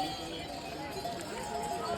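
Horses' hooves clip-clop at a horse stop on the mountain trail to Hemkund Sahib in Uttarakhand. The hoofbeats are muffled under steady outdoor noise and nearby voices.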